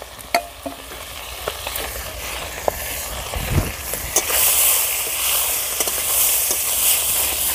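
Chopped mustard greens added to frying mourola fish in a pan, with a steady oily sizzle and hiss, scattered stirring clicks and scrapes throughout.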